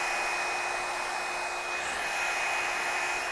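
Revlon One Step hair dryer styler blowing steadily as it dries hair, a loud, continuous close-up whoosh with a faint high whine, alone with no talking.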